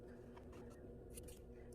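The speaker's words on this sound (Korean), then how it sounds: "끝에 한 2mm 정도 남기고 이렇게 가위밥 주세요" Scissors snipping the folded corner of a sweatshirt rib fabric, a few quick faint crisp cuts over a quiet low room hum, close up and without speech.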